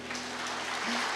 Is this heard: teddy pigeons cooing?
no